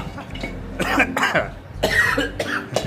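A few harsh, close coughs in quick succession, loud and raspy, with short pauses between them and no talking.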